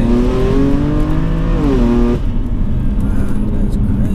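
Loud in-cabin exhaust roar of a 560 bhp tuned BMW M4 convertible accelerating hard, engine pitch climbing through the revs before a gear change, with a continuous deep drone throughout.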